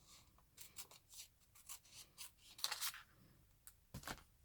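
Scissors snip through a sheet of paper while a pattern piece for a stand collar is cut out: a run of short, close, crisp cuts and rustles in an irregular rhythm, fairly quiet, with no talking.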